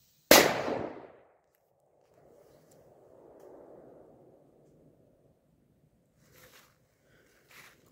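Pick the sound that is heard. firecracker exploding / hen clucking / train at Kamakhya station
firecracker exploding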